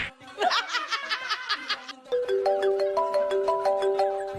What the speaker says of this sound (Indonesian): Telepon dari siapa tuh?